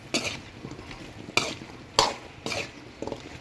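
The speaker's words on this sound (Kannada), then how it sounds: "ಕಟ್ ಮಾಡಿಟ್ಟಿರೋಂಥ ನುಗ್ಗೆಕಾಯಿನ ಸೇರಿಸಿ ನೀಟಾಗಿ ಮಿಕ್ಸ್ ಮಾಡಿ" Drumstick pieces stirred into a sizzling pan, four or five distinct scraping strokes of a spoon against the metal over a low frying hiss, close and clear, with no talk.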